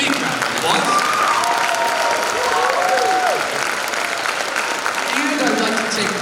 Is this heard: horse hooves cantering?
no